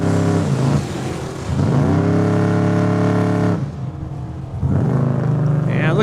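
A 1982 Camaro race car runs down the drag strip at Saskatchewan International Raceway, its engine roaring loud and close with rising gear pulls, a brief dip near the middle, then surging again.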